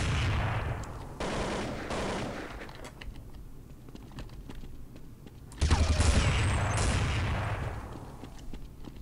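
Rapid automatic gunfire in Counter-Strike 1.6 on the Dust2 map, long loud bursts of shots with brief pauses between, plus scattered single cracks and game effects.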